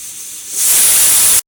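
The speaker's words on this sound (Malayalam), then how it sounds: "കുക്കറിൻ്റെ ഉള്ളിൽ നിന്ന് ആവി മുഴുവനും പോയിട്ടുണ്ട്." Steam hissing from a pressure cooker holding green papaya pieces, a loud continuous spray that starts softly and builds sharply, then cuts off abruptly after about a second.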